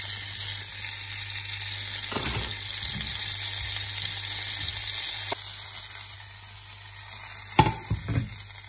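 Butter and bacon fat sizzle in a hot frying pan, a steady close hiss with small pops and a couple of clinks from the pan, no voices.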